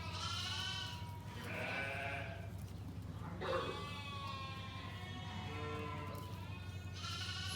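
Sheep in a dairy sheep barn bleating close by, several drawn-out calls in succession with short pauses between them over a steady low hum.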